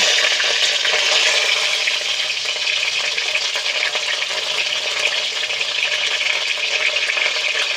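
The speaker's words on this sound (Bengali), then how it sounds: "এবারে যে গোটা গোটা উচ্ছেগুলো ছিল এবারে এই উচ্ছেগুলোকে আমি ভেজে নেব" Loud, continuous sizzling and crackling of whole bitter gourds frying in hot oil, steady and dense throughout with no voices.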